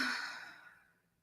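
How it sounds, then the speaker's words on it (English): A single deep, slow breath, soft and close, fades away over about a second during a quiet prayer session. "Breathing in"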